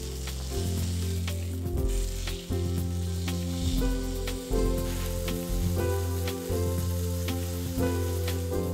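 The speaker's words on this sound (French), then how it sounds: "disposez la viande dans l'ustensile de cuisson" Meat sizzles steadily and loudly in a hot stainless steel pan, a dense crackling hiss with occasional scrapes and shifts, and no voices.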